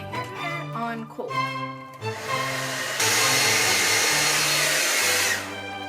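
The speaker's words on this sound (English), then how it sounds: "now I'm going to quick dry this with my hair dryer on cold." A hair dryer set to cold blows loud and steady for a couple of seconds, then cuts off as it dries liquid latex zombie makeup. Tonal music plays before it starts.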